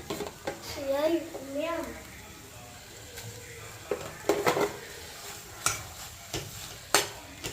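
A spatula stirs ginger garlic paste into prawn biryani masala in a hot pan, giving close scraping clatters and a soft sizzle. A voice speaks over the first couple of seconds, then sharp stirring knocks continue alone.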